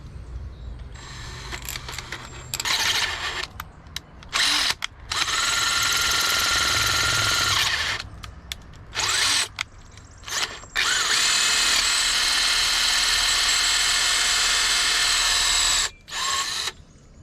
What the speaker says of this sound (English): So I'm just gonna drill it so I can turn it with a screwdriver